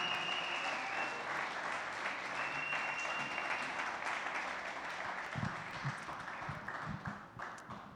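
Sustained applause fills a church congregation at a Spanish-language sermon, a dense steady patter of many hands that thins and fades in the final seconds.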